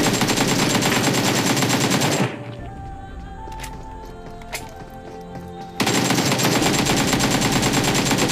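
Loud, dense automatic gunfire in PUBG Mobile played on a Redmi Note 8 Pro, heard as two continuous bursts with a quieter gap between them that holds a few isolated shots and clanks.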